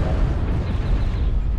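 Heavy, continuous low rumble of an airstrike in MechWarrior Online, a sustained boom of explosions rolling without a break, loud and dense throughout.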